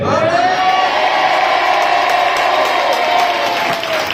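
Church congregation clapping and calling out amen together, a loud continuous mass of applause and raised voices with a sustained vocal tone running through it.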